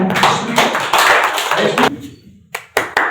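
Audience applause at a Marathi press association event in Lonavala, bursts of clapping swelling and dropping in waves, then a brief lull before short scattered claps return.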